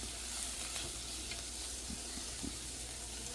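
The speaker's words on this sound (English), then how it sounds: "Just going to saute that real quickly here." Garlic sautéing in a pan gives a steady, dense sizzle, faint and even throughout, with a few soft stirring touches and no voices.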